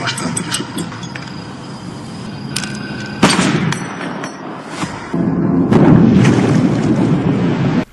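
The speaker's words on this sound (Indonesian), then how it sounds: "Miguel menembak anaknya." A gunshot goes off in a film, a single sharp crack midway through that stands out against a busy, noisy soundtrack, which rises and stays loud after the shot.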